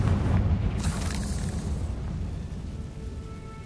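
A Confringo blasting spell explosion in the Hogwarts Legacy video game, a single deep rumbling boom that opens loud and then slowly fades into a low roar.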